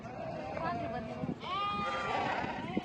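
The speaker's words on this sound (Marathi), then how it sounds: "मेंढर पण आता आले ते बिराडावर." Sheep bleat at a herders' camp in the rain, several calls rising over one another at close range, mixed with people talking nearby.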